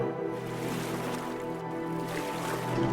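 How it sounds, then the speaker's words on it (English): Oars dipping softly in and out of calm lake water from a rowboat, a quiet continuous lapping and swishing with a low boat hum beneath, no voices. "the soft paddle of the oars in and out of the"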